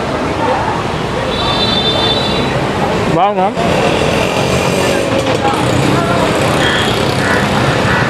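Heavy street traffic beside a bajji street-food stall in Pondicherry gives a loud, continuous roar of engines and road noise, with a voice briefly speaking over it.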